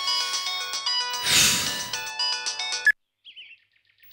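A mobile phone ringtone plays in a Telugu TV serial scene, a bright melodic tune chiming loud and close for about three seconds before cutting off, followed by a faint chirp.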